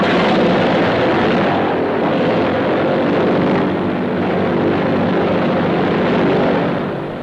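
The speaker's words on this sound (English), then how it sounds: "Plane after plane." Propeller airplanes of the Berlin Airlift drone loudly and continuously, a dense steady engine roar that fades slightly at the end.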